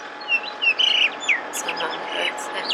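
Small birds chirp in an open grassy outdoor meeting area, with a handful of bright, quick tweets and trills spread across the moment over a soft background hiss, moderately close.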